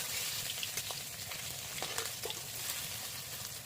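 Fritters (bora) fry in hot oil and are flipped, giving a steady, close sizzle. Faint clicks and light knocks from turning them sound throughout.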